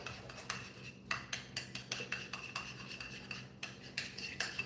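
Ingredients mixed in a bowl for ham sliders, a utensil scraping and clinking in a steady, quick rhythm of repeated strokes, close and fairly quiet with no talking.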